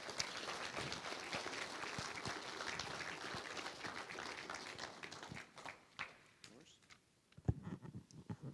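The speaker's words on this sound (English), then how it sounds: "if you'd give him a round of applause for being here today" An audience applauds a visitor from Tennessee at a Missouri walk of fame event, a dense, steady clapping that holds for several seconds before thinning into scattered claps and light movement.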